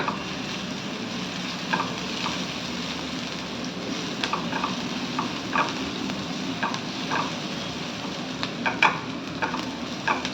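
Pasta coated in pasta masala sautés in a pan, a steady close sizzle with intermittent scraping and stirring clicks from a spoon, no one talking.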